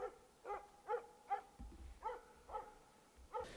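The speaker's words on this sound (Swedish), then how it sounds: "Hon börjar skälla nästan direkt efter släpp." A Jämthund hunting dog barks repeatedly during a moose hunt in short, evenly spaced yelps, about eight barks at a steady rhythm, fairly close with a quiet outdoor background.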